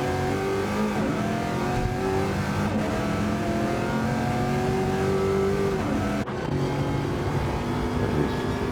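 Supercars racing at St Croix in Gran Turismo 7, a dense, continuous roar of engines revving and shifting pitch as cars brake heavily for a bridge, loud and unbroken, with no talking.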